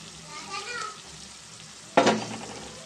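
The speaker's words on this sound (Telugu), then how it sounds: "ఇది కొంచెం పచ్చివాసన పోయేదాకా మనం దీంట్లో ఫ్రై చేద్దామండి" Ginger, garlic and cumin paste fries in a pan for a chicken curry, a steady soft sizzle with a sudden louder burst of spattering near the end as the paste hits the hot oil.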